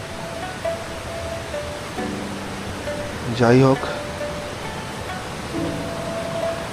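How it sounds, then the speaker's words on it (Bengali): Jhalong river water rushes with a steady broadband roar throughout, while a person briefly speaks over it in the middle. "আর এদিকে হচ্ছে নদীর জলের আওয়াজ"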